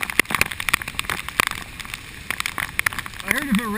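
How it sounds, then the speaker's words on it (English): Heavy typhoon rain pours at Nagoya Station, a dense patter with sharp spattering drops close by, while a voice speaks near the end. "Through this amazing rain."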